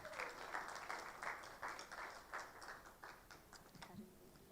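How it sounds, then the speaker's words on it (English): A small audience at a handover ceremony gives scattered, rhythmic clapping, faint and somewhat distant, fading out after a few seconds. "Kindly, a round of applause as she starts"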